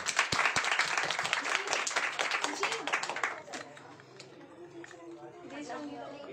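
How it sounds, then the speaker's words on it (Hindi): An audience at a school Republic Day programme in Panna claps loudly for a young girl about to dance. The clapping is dense for about three seconds, then fades into murmuring chatter. "परी के लिए जोरदार तालियां।"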